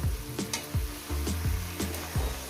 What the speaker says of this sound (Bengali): চার পাঁচ মিনিট ধরে আমি এটাকে ভেজে নেবো গ্যাস কিন্তু মিডিয়ামে রাখবো